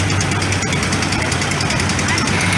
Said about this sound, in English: 1966 Military Mule owned by Jay Vise from Wisconsin.